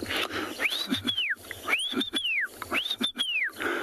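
A person whistles three rising-and-falling, arched notes in a steady rhythm, imitating a white-faced whistling duck's call over a soft outdoor safari background at sunrise.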